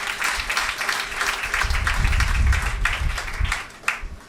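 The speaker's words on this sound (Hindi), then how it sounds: "इनके लिए भी जोरदार तालियां।" Loud, dense applause from a crowd at a boys' cricket tour gathering honors hotel staff and photographers, sustained clapping throughout with a few brief cheers near the end.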